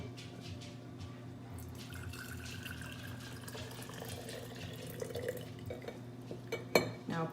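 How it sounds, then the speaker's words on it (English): Hot water is poured from a cup into a jar, giving a quiet, continuous trickle and light dripping over a faint steady hum, with a small clink of glass near the end and no talking. "Pour the cup of water into the jar"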